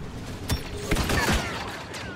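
Stinger pistol fire in a Star Wars Battlefront Capital Supremacy match, sharp shots popping at a steady clip over continuous loud battle noise, several distinct bursts close by.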